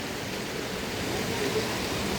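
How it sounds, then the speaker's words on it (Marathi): A constant roar of rushing water rises from a river running in full flood after rain, loud and unbroken, with a faint voice briefly audible beneath it. "फुल नदी वाळून चाली बघा खालनं"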